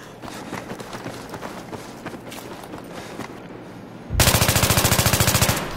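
Rapid automatic rifle fire from an AEK in Battlefield 3 bursts out loudly near the end, preceded by quieter game ambience with running footsteps and distant shots.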